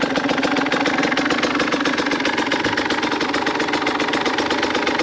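A 2022 Husqvarna TE150i two-stroke dirt bike engine idles steadily, close and loud, with a dense even rumble that runs for the whole stretch and no talk over it.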